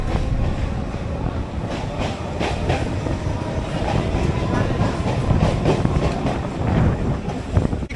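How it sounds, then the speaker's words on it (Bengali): A local train pulls out of Lakshmikantapur toward Namkhana, heard from inside with a continuous loud rumble, rattling carriages and rhythmic clickety-clack of the wheels over the rails. "সঠিক সময় আমাদের ট্রেন ছেড়ে দিল লক্ষ্মীকান্তপুর থেকে"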